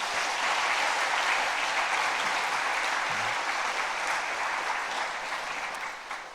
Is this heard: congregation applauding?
yes